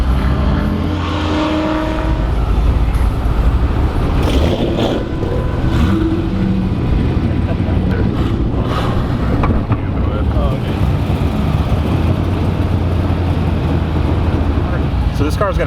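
A Corvette C6 Z06 fitted with a Texas Speed 2.2 LS7 cam, 265cc cylinder heads and long-tube headers roars loudly on a ride along, engine droning steadily with rising pulls, while someone talks over it.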